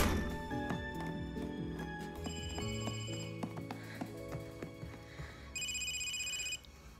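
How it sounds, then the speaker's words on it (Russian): A telephone rings indoors with repeated bright electronic tones that grow louder near the end, mixed with musical background sounds and no talking. "телефон звонит"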